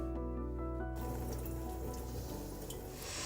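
Tap water running steadily as ancient Roman shipwreck artifacts are soaked to draw out salts, a faint continuous flow that thickens into a broader gush after the first second.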